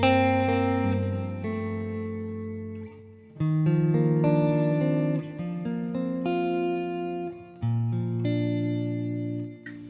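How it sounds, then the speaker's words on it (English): Electric guitar chords ring out through a Boss IR-2 amp and cabinet simulator with a Blues Driver in front, a Fender Twin-style tone, and dual delay and reverb on an HX Stomp. The chords are sustained and restruck several times, with no talking. "I've got the blues driver in front of it. I've got the amp and cabinet, and that's going into a delay, a dual delay and reverb on the HX Stomp."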